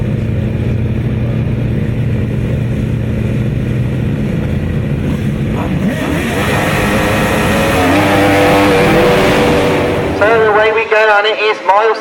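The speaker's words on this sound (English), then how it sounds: "it is Miles Simmons who makes a good start" Grasstrack racing outfits, sidecar machines at the British Masters, roar off the start together, a dense engine drone that builds as they pull away, with a race commentator talking over it and wind buffeting the microphone.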